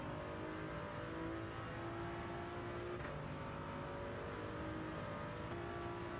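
A race car engine holds a steady, humming drone while driving the Le Mans circuit in Gran Turismo 7, approaching the Ford chicane at an easy pace. The sound is faint and continuous, with no voices.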